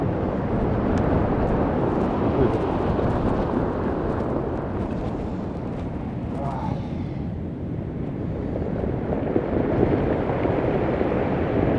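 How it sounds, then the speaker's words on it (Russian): Heavy, continuous roar of storm surf churning over beach stones on a high shore at Anapa, a broad rumbling wash with wind buffeting the microphone throughout, no voices. "Какой грохот камней."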